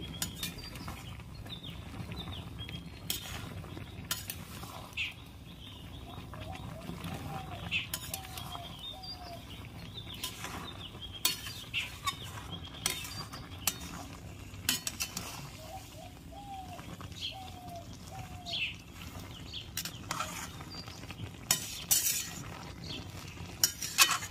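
Taro leaves are stirred in a pot, with intermittent sharp scrapes and clinks of a utensil against metal, scattered and fairly close, while birds chirp faintly in the background.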